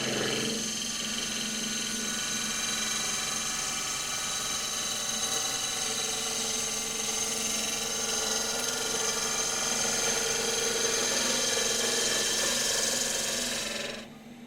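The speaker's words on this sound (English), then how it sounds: "the trailing edge of the tool can be used to produce a fine shaving, rather like a skew chisel" A woodturning gouge on a lathe takes a fine shaving with its trailing edge, giving a steady close whirring hum with a continuous rasping cut that runs evenly for about fourteen seconds before dropping away at the end.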